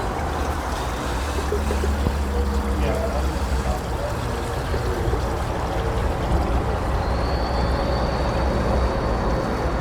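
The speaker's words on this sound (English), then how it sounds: "how the water is just flowing on down" Water running down a small stream beside an icy pool and a little frozen waterfall along an abandoned rail line in winter, a constant close rushing and trickling with a faint tonal whine entering partway through.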